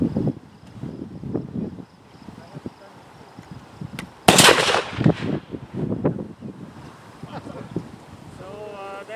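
A single sharp rifle shot from a WWI-era British weapon of the Irish independence period cracks loudly at an outdoor range, amid wind noise and people talking before and after.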